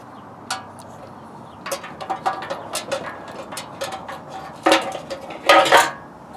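Metallic clinks, scrapes and small ratcheting clicks come from a fuel sending unit being fitted into the tank of a Harley-Davidson Road King. The sounds are close and irregular, with a louder cluster of knocks near the end.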